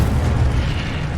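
Incendio fire spell cast in Hogwarts Legacy: a short, loud, low rumbling burst like a whooshing explosion that sustains, then tails off slightly.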